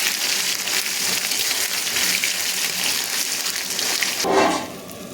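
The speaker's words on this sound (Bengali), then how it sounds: "এই মশলাটা দিয়ে আমি সুন্দর করে এটাকে ভেজে নেব তেলে" Spice paste frying in oil in a pan for a mixed vegetable curry, a loud dense hiss and sputter that holds steady, then surges briefly near the end.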